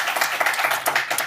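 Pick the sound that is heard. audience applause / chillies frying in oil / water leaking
audience applause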